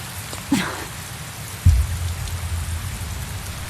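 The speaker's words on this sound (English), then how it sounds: "Rain." Rain falls steadily in Tales of Berseria, a dense hiss of drops on surfaces with a low rumble and a couple of brief thumps, fairly loud and continuous.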